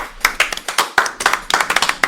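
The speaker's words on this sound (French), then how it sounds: "on applaudit" A few people clap in short, uneven bursts of sharp, close hand claps during a casual hangout where someone eats a chili pepper, with pauses between the rhythmic runs.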